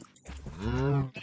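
A Minecraft cow gives a single drawn-out moo, rising and holding for about half a second, close and clear, with a brief voice at the start and end.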